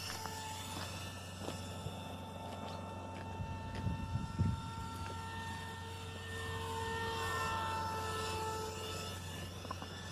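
Radio-controlled foam glider converted to a three-channel plane, flying with a faint, steady motor and propeller whine carried on the air, fairly distant and low in level throughout.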